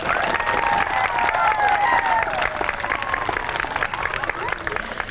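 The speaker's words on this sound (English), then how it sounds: "let's give a big round of applause to Mike" At an outdoor playground ribbon cutting at an elementary school, an audience gives a round of applause with scattered cheers, moderately loud and close, while a voice talks over the clapping.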